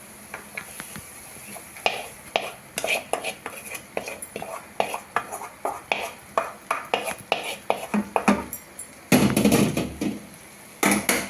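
Prawn roast being stirred in a pan: a ladle repeatedly scrapes and clinks against the metal in an uneven rhythm, over a soft sizzle, up close and fairly loud.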